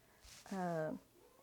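A pet cat gives one short, clear meow at close range, a single drawn-out call in a quiet room.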